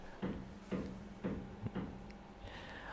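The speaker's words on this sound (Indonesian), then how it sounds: "Ada suara ketok-ketok lagi ya." Knocking from beside someone presenting an online seminar comes as four evenly spaced dull knocks about half a second apart, fairly faint, followed by a weaker, quieter tail with no talking.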